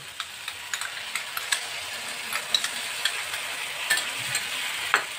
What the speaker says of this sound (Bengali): এর মধ্যে দিয়ে দেব ফেটিয়ে রাখা টক দই